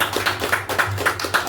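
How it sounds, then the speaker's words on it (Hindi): An audience at a weekly business meeting claps loudly in an even, repeated rhythm, the close bursts following one another at a brisk pace. "तो एक बार और जोरदार ताली बजा दीजिए"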